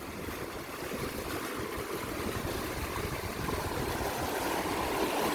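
Continuous rushing wash of ocean waves rolling onto a rocky coastal shore, a steady broadband roar with no voices.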